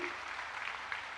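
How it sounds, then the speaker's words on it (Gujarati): An audience claps in an auditorium at a political event in Kalol, Gujarat, a dense, fairly quiet patter of many hands that carries on steadily from a slight distance. "ભાઈ તાળી વગાડો જરા"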